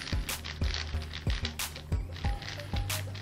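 A new QiYi WuHua V2 6x6x6 puzzle cube being turned by hand, a steady run of about eight close plastic clacks and ratcheting layer turns in quick rhythm, with no talk.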